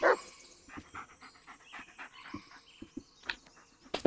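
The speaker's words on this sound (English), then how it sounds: "Good dog." A dog pants in the video game Blair Witch: quick, rhythmic breathy puffs with a few sharper yips, fairly close, and no talking.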